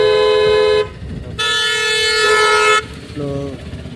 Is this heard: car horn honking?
yes